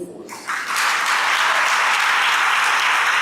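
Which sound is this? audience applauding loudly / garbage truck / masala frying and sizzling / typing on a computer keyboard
audience applauding loudly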